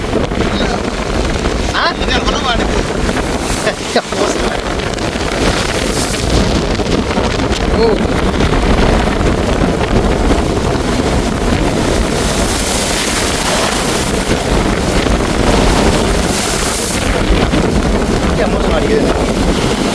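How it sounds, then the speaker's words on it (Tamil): Strong cyclone wind at the sea in Jaffna buffets the microphone in a constant roar with gusts, rough and loud, while a voice talks intermittently underneath. "பாருங்கள் இந்த காற்றை பாருங்கள் இப்படி அடிக்கிறது"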